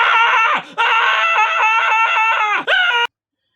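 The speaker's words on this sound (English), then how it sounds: "I would insert a sound effect of a scream." A loud, high, wavering scream sound effect holds for about three seconds with one brief break, then cuts off abruptly into silence.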